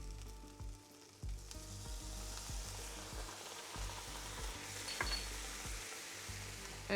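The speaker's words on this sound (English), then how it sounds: "And we're gonna stir to incorporate all of this." Persian quince, prune and beef stew being stirred in a pot with sugar and saffron added, a soft steady sizzle with scraping stirring strokes recurring every half second or so, close and alone with no talking.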